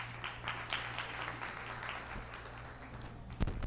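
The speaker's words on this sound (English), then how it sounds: "So give yourself a round of applause." Audience applause at a show, faint and distant, rises in a steady patter over a low hum, with a louder clap or two near the end.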